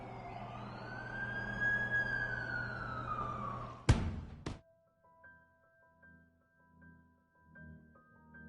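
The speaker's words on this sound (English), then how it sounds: "That's the ambulance I called." An ambulance siren in The Amazing Spider-Man video game wails loudly with sweeping rising and falling tones, cut off abruptly by a sharp burst, then followed by quiet game music and sparse tones.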